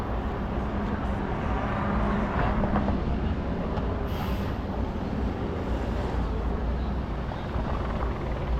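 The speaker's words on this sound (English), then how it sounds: "Helicopter sort of suspended over here by 2400 Chestnut" A helicopter hovers over Chestnut Street in Philadelphia, its dense, steady rotor and engine roar filling the scene at a constant, loud level without letup.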